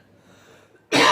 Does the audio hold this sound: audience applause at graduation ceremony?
no